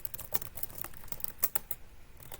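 Rapid, light clicking of keys as someone types code on a computer keyboard, an uneven patter of close, quiet keystrokes with no talking.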